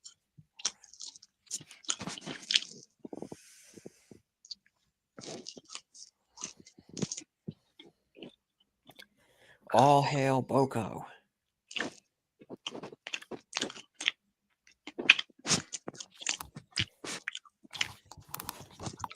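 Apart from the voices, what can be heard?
loud chewing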